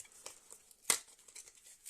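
Paper packaging of an Isana lip balm is torn open with a few short crisp rips and crinkles, one sharp tear standing out, close and alone.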